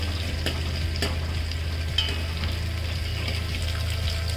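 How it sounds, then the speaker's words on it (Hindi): Onion lightly frying in hot oil for a sambar tadka, a steady close sizzle with occasional stirring scrapes throughout. "ज़्यादा फ्राई नहीं करेंगे, हल्का सा फ्राई करेंगे"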